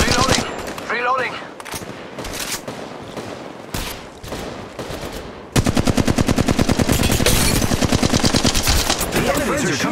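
Gunfire in Apex Legends Mobile: scattered single shots at first, then a sustained burst of rapid automatic fire with evenly spaced, closely packed reports, loud and near.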